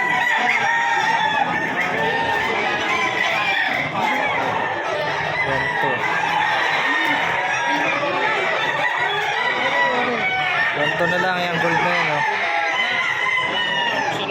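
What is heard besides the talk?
chickens and roosters crowing and clucking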